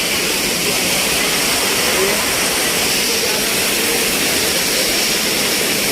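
The Dudh Dhara waterfall at Amarkantak pours hard, a loud, steady broadband rush of falling water heard close by, with a voice faintly talking under it.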